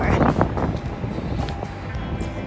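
Heavy gusting wind in New Mexico buffets and rumbles loudly against the microphone in a constant, low roar, with a voice partly audible beneath it.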